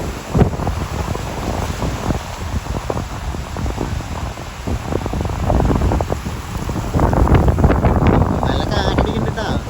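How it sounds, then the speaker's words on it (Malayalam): Strong wind gusts along the Portuguese ocean shore, a loud, buffeting roar across the microphone mixed with crashing surf, while people talk over it throughout. "നല്ല കാറ്റടിക്കണ്ടാ."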